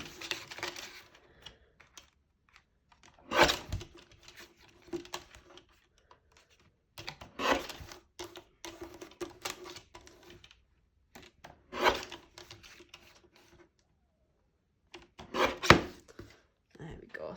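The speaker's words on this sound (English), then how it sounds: "just have a little guillotine to trim this one down" A small paper guillotine trimming card, giving several separate short scraping slices spaced a few seconds apart, close and fairly quiet, with soft handling noises between cuts.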